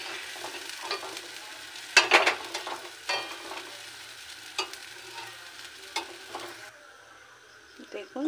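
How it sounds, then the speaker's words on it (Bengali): Green pea kochuri filling dry-fries in a wok, soft sizzling punctuated by irregular scraping spatula strokes every second or so, easing off toward the end. "যতক্ষণ না কড়াইটা শুকোচ্ছে ততক্ষণ এটিকে ভাজতে থাকবো"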